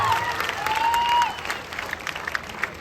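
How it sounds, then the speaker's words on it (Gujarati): A crowd at a prize-draw event in Madhapar, Kutch, claps steadily for a winner, the applause dense at first and then thinning into scattered claps, with a faint whistle-like tone over it. "વધાવો તાળીઓના ગગડાટ."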